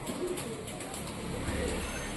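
Giribaz pigeons coo softly and steadily, their low murmuring calls blending with a faint background hum and continuing without a break.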